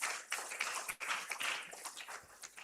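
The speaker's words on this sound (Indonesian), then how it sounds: "Tepuk tangan sekali lagi buat Pak Wamen dan Pak Deputi." An audience at a student community-service send-off ceremony claps in a quiet, moderately distant burst of applause that rises and falls, with no voices heard.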